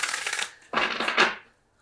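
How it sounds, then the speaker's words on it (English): A new tarot deck is shuffled in two brief riffling bursts, close and crisp, separated by a short pause and followed by quiet. "Let me give this a couple shuffles here."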